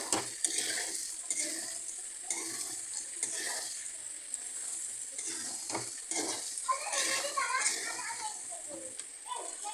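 Ground coriander, cumin and chilli sautéed with other spices in a pan for a Bengali hilsa and papaya curry, a soft sizzle with repeated stirring and scraping, a voice talking over it.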